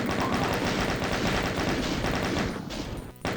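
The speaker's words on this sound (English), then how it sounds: "And then the chain gun." A chaingun in Doom 2 fires in a dense, unbroken stream of rapid shots, loud and steady for nearly three seconds before cutting off abruptly, followed by a brief sharp burst.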